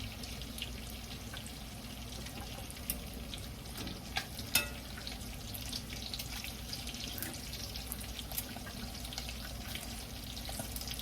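Bacon frying in a pan while breakfast is cooked, a steady broadband sizzle and crackle that runs throughout, with a couple of brief louder pops or clinks partway through and no talking.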